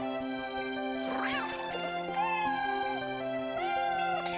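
A cartoonish cat in the Toca Boca video game gives a few rising and falling meows over steady, tonal background game music.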